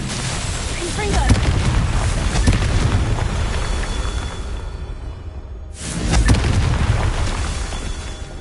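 A Confringo blasting curse explodes in the Hogwarts Legacy game, a loud booming burst with rumbling low-end that fades, then a second blast swells back in after a brief gap.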